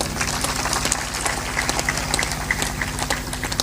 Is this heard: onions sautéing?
no